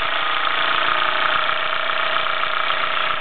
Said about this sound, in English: This one's really getting into its stride now, and it's a commendable runner.